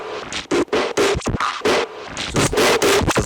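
Synth on a Polyend Tracker+ with master saturation pushed up, sounding as harsh, gritty noise bursts that stutter in a choppy rhythm, loud and close with no voice.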